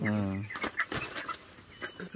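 A broiler chicken clucks close by while being caught and weighed, a drawn-out call followed by several short, irregular clucks and scratchy movement noises.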